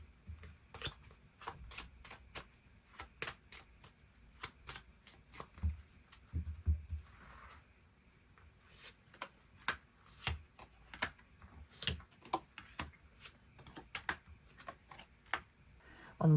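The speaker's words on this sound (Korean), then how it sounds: "그럼 9번 분들 추가 카드로 3월 첫째 주부터 마지막 주까지 어떤 한 주 한 주를 보내게 될지 추가 카드 뽑아보도록 하겠습니다" Tarot cards being drawn and shuffled at a reading table: a long run of quick, crisp card flicks and snaps close up, in irregular bursts with brief pauses, no talking.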